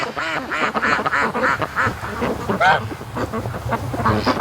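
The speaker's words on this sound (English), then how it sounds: "there's a bunch of ducks behind me" Free range ducks quack repeatedly on a lake near a canoe, a steady chorus of calls close by with someone talking over them.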